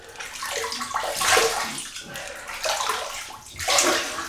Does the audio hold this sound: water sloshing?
yes